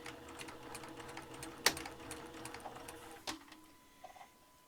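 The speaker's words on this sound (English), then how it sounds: "I'm going to stitch down this long edge" Sewing machine stitching down the long edge of a scarf with neutral thread and a half-inch seam allowance, held with clips: a quiet, steady mechanical whir with a couple of sharper clicks, no voices.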